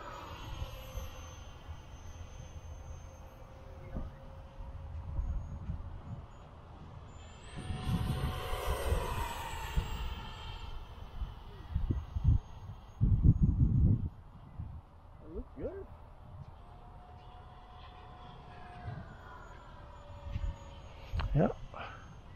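A Freewing 64mm F-22 Raptor RC jet with a 4s 3200kv XFly electric ducted fan flies by, its whine rising and fading as it passes at moderate distance, under ongoing outdoor conversation.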